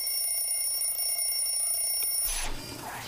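A cartoon alarm clock rings with a sustained high metallic trill for over two seconds, then cuts off abruptly into a brief whooshing effect.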